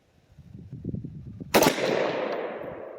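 A single loud AR-15 rifle shot at an outdoor shooting range cracks sharply after a stretch of quiet shuffling, then rolls away in a long, fading echo.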